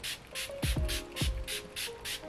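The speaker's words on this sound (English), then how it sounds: "And I kind of love that it's in a spray." Face mist spray bottle pumped repeatedly: a rhythmic run of about seven short, airy hissing spritzes, close and soft, with a few faint low knocks among them.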